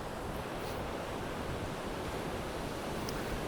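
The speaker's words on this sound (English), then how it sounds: "And you get a good look at the waves crashing in here." Waves crash on the Lake Erie shore during a winter windstorm, a steady, dense roar of surf and wind noise with no distinct breaks, close and moderately loud.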